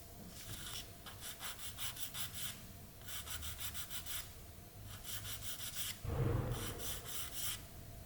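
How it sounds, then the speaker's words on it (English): Careful hand sanding of a small 1/48 scale plastic model kit part: repeated short rhythmic rubbing strokes in quick bursts, close and soft, with no talking. "it is a matter of very careful sanding"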